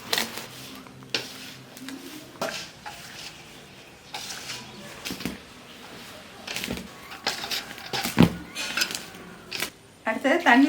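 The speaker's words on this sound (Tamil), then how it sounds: "அப்புறம் தண்ணி சேர்த்து பிசைஞ்சுக்கலாம்." Maddur vada dough is mixed and kneaded with water by hand in a bowl, giving irregular close clinks, pats and scrapes against the bowl in uneven bursts.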